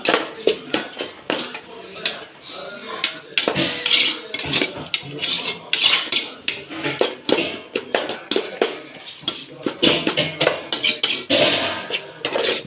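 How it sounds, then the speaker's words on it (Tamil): Ginger garlic paste is sautéed in oil in a pan, with a busy clatter of utensil scraping and tapping against the pan in irregular bursts over faint sizzling, close and fairly loud. "லேசாக எண்ணெயில் வந்து வதக்கணும்."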